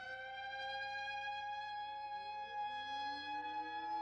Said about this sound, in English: The sirens were going.